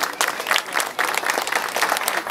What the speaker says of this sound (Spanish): le demos un fuerte aplauso al coronel que está con nosotros